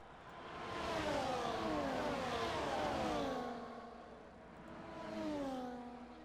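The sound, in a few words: racing cars passing in a video game race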